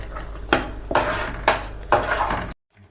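Masala spices fry in a pan while a spoon stirs and scrapes, with four clattering strokes against the metal over a low steady background, then sudden quiet.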